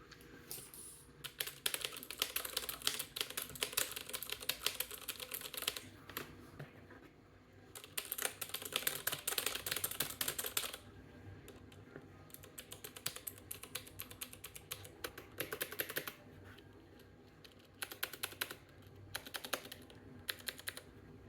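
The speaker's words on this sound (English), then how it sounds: "This is the best keyboard that you will ever use" Rapid typing on a computer keyboard at a desk, fast clattering keystrokes in several bursts separated by short pauses, close and clear with no voices.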